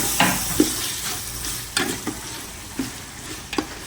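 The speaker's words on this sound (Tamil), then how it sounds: "தக்காளியை போட்டுட்டு கொத்தமல்லியும் அதிலே அதோட சேர்த்து ஆட் பண்ணிடுவோம். இப்போ ரெண்டையும் சேர்த்து நல்லா கிண்டிக்குவோம்" Tomato and coriander being stirred in a hot pan for chicken kuzhambu, with a steady sizzle under soft, irregular scrapes of a spoon against the metal, close and moderately loud.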